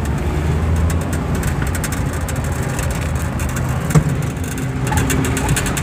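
A 1998 Mitsubishi Eclipse Spyder driving on the road, its engine a steady low hum with road and wind noise throughout, close and continuous, with one brief knock partway through.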